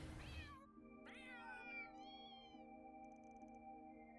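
Cats meow in the Old Town area of the video game Trails Through Daybreak 2, several drawn-out, wavering cries one after another over a sustained musical background, clear and fairly close.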